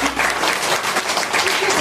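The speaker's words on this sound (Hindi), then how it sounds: "तो मैं चाहता हूं कि आप तालियों से" Dense, sustained applause from a crowd at a school farewell ceremony, many hands clapping together at an even, loud level throughout.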